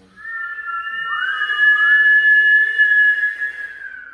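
One sustained whistled tone carried on an exhaled breath, following a nasal inhale, holds steady for about four seconds, close and clear, with no speech.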